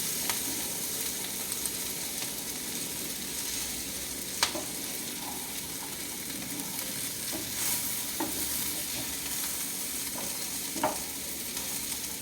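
Ingredients sautéing in hot coconut oil, a steady crackling sizzle with occasional sharp clicks and scrapes as the pan is stirred, continuous and close.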